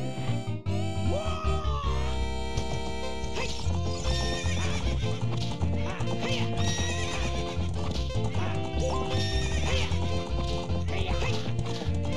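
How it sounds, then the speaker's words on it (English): Horse hooves clip-clopping at a gallop and a whinny in a corral race in the Zelda: Ocarina of Time video game, loud and continuous under game music throughout. "How about a little race with me? One lap around corral with that horse."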